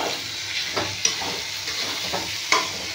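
Poppy seed, cashew and melon seed paste being stirred while frying in a pan, a continuous close sizzle with soft scraping strokes and a couple of sharper clinks of the utensil against the pan.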